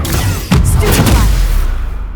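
The Stupefy spell is cast in the video game Hogwarts Legacy: a loud, sudden crackling burst that rumbles on for over a second before fading out.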